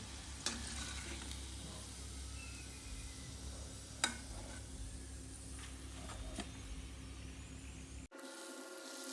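Crispy potato patties fry in oil with a quiet, steady sizzle, punctuated by a few sharp scrapes and taps of a utensil, before the sound cuts off abruptly near the end.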